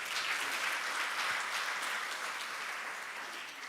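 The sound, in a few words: conference audience applause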